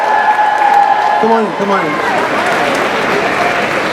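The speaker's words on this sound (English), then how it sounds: "Can we give these people a round of applause?" A crowd at a comic convention panel applauds and cheers continuously while a person speaks over the clapping, the noise steady and fairly loud.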